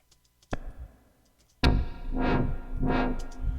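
A sharp click, then a burst of self-made synthesizer plugin sound with two swelling, whooshing sweeps and a sustained tone, an eerie, spacey UFO-like effect.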